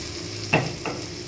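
Soy sauce splashes into pancit in a hot pan, two brief close sizzling bursts over a faint steady frying hiss, with no talking.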